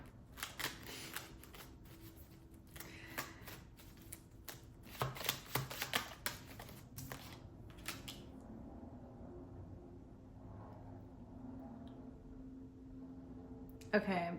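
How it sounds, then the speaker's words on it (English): Tarot cards shuffled and handled at close range, with brisk riffling and flicking bursts through the first half, then quieter handling as a card is pulled near the end. "Let me pull another card here."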